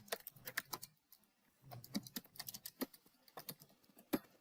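Someone types a gift card description on a computer keyboard: irregular bursts of close, crisp key clicks with short pauses between runs, quiet and alone without speech.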